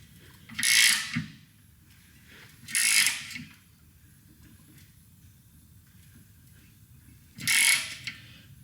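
Clamp being tightened around the factory exhaust pipe of a 2025 Harley-Davidson Road Glide, three separate bursts of close ratcheting clicks with quiet pauses between them.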